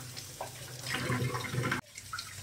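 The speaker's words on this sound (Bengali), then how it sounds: "এখানে এখন পাবদা মাছগুলো ধুচ্ছি, ধুয়ে রাখছি।" Pabda fish rinsed under running tap water: a steady gush of water splashing over the fish, close and loud, cutting off abruptly near the end and then trickling faintly.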